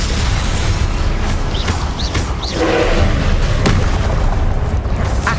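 A Confringo fire spell explodes in Hogwarts Legacy amid loud, continuous combat noise, with a deep booming burst and crackling fiery texture mixed with other spell effects and brief whooshing tones.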